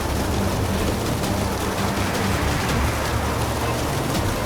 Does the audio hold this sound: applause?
no